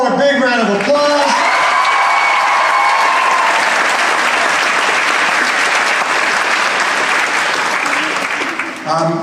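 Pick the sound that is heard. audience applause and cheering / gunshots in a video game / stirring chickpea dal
audience applause and cheering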